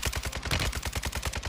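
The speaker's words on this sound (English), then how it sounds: "someone's shooting me in the back." Automatic gunfire in the video game Call of Duty Warzone 2.0, a rapid burst of evenly spaced loud shots close up, firing continuously for about a second and a half.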